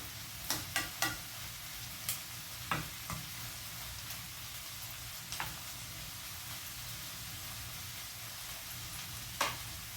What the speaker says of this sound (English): so the onion are cooking up really nice